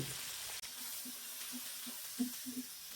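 Onion and a few potato pieces fry in hot oil for a Bengali fish curry, a soft broad sizzling hiss with a few quiet spoon taps, near and fairly faint.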